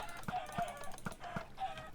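Chickens in a Minecraft chicken farm cluck in short repeated bursts, about five evenly spaced calls over two seconds at moderate loudness, with no talk.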